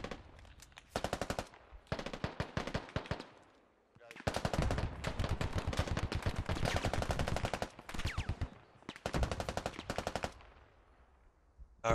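Machine gun fire in the squad-based shooter Squad: loud, rapid automatic bursts in several long strings, separated by brief pauses, with no talking.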